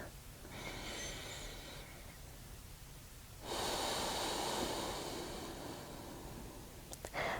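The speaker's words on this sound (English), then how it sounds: "focused on breathing in and out through the nose" A person breathing slowly in and out through the nose during a calm yoga session, with long soft airy breaths that swell and fade, a fuller exhale in the second half and a few light clicks near the end.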